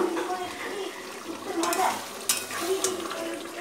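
Chicken being sautéed (kosha) in a pan gives brief spatula scrapes and a low sizzle, with a faint voice in the background.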